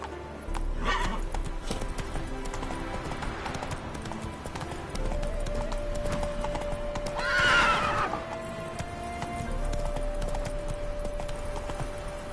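A horse in The Witcher video game clip-clops along at a steady gait, and a loud whinny rises midway through, with continuous hoofbeats underneath and no talk.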